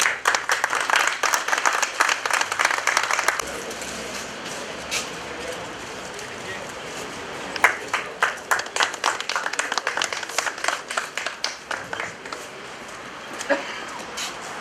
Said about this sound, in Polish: jeszcze raz głębokie brawa